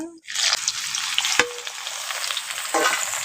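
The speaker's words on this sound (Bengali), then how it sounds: "ওলটাকে একটু ফোড়নের সঙ্গে ভেজে নেব।" Boiled elephant foot yam hits hot oil with tempering spices and green chillies, giving a loud continuous sizzle and crackle, with brief stirring scrapes in the pan.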